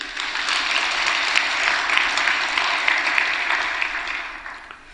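Church congregation applauding a youth praise team, a dense, steady wash of clapping that fills the room for several seconds before tapering slightly at the end.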